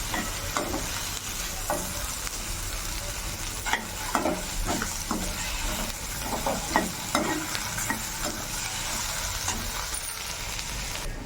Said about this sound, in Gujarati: બરાબર તેલમાં મિક્સ થઈ જાય ત્યાં સુધી એને મિક્સ કરતા જઈશું